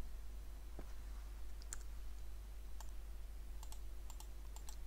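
Sparse, quiet computer mouse clicks while programming in Scratch, a few isolated sharp clicks spread over a steady low hum, no talking.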